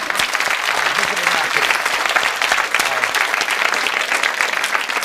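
A studio audience at a 1975 British whodunnit game show breaks into steady, dense applause that holds for the whole stretch, with faint talk underneath.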